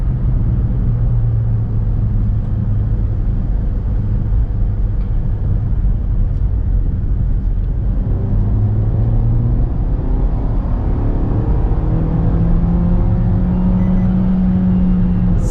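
Inside the cabin of a 2022 Maruti WagonR facelift with the 1.2 AMT, engine noise holds a loud, steady droning hum at high revs, rising in pitch toward the end, with no talking.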